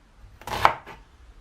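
A single knife stroke chopping through food on a board, followed by a lighter second tap, in a quiet room.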